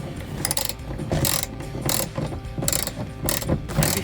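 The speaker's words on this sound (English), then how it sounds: "I'm gonna end up using my torque wrench as well as just a normal socket." A socket wrench ratchets on a seat belt bolt in a Jeep Wrangler, giving repeated bursts of rapid clicking in a steady rhythm, close and fairly loud with nobody talking.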